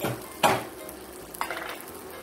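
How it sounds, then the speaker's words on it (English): Diced baking potato goes into a skillet for a one-skillet chicken pot pie, making a brief crackling sizzle with a soft stir, then a second quieter burst of frying over a low background hiss. "we're also gonna add in one large baking potato that we've diced up"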